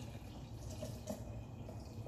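Water is poured into a blender over about six spoonfuls of oats, a faint, steady trickle and splash with soft dripping textures, low in level and without talk.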